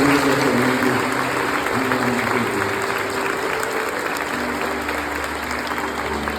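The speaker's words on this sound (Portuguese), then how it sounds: "Vamos dar boas-vindas para as crianças com uma salva de palmas." A church congregation claps steadily to welcome children at a baptism service, a dense, even wash of applause that holds throughout and fades slightly toward the end.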